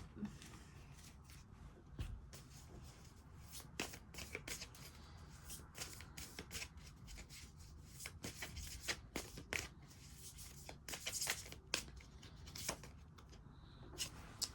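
A deck of tarot cards being shuffled by hand for a reading, producing a long run of quiet, close, rapid card slaps and riffles with steady rhythm and no talking.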